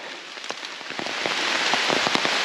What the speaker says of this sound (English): Just raining lightly right now,